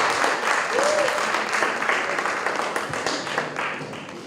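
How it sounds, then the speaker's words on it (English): Applause at debate finals from a large audience, a broad, steady wash of clapping that holds at an even level and eases slightly toward the end. "Very much deserved that round of applause."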